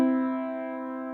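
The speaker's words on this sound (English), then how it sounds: "If I wanted to play you a harmonic third, I would play you this." Two steady notes sounding together as a harmonic third, a clean sustained synthetic tone with a soft attack, held briefly and fairly quiet.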